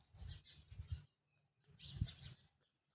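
Sparrows chirping at their nests in a neighbour's mango tree come in two faint bursts of busy, overlapping chirps, separated by a brief silence.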